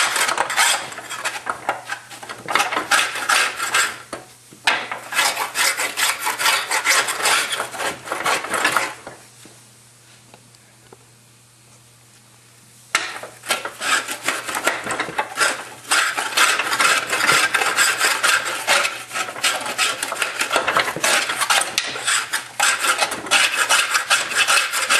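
A putty knife scrapes debris off the deck of a riding mower in long, loud rasping strokes, close up, with a quieter pause partway through before the scraping resumes.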